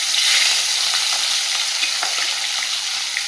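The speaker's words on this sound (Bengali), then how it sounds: "তেলটা গরম হয়ে গেছে, মাছগুলো ভেজে নেব।" Pieces of catla fish frying in hot oil, a loud, dense, continuous sizzle and crackle, close up with no talking.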